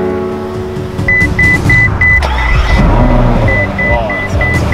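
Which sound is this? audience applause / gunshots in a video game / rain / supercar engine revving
supercar engine revving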